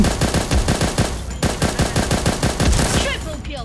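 Rapid automatic HK416-Viperid rifle fire in the shooter game Bullet Angel, loud, close bursts of evenly spaced shots that run almost without a break through the clip and trail off at the end.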